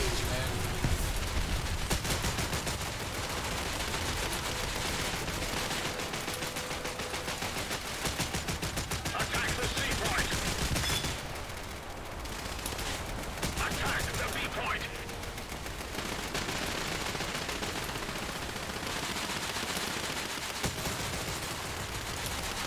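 Dense, continuous gunfire from small boats in the naval combat game War Thunder, with rapid automatic bursts and heavy shots layered over one another, loud throughout with a brief lull near the middle, while someone talks over it.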